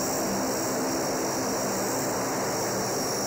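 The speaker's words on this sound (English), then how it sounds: "C-130 transport flown by an all-Marine Corps crew of 3 pilots and 6 enlisted personnel." C-130 transport aircraft flown by a Marine Corps crew at an air show, its propeller engines giving a steady, dense broadband roar with a high whine, continuous and fairly loud.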